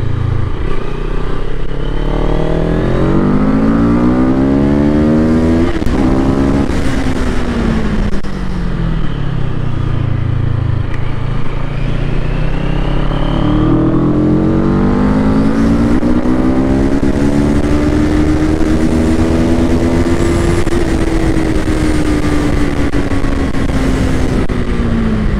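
A CF Moto motorcycle engine pulls hard through the gears on a wet night ride, its rising and falling whine sweeping up and down over steady heavy wind rush, loud and continuous with no talking.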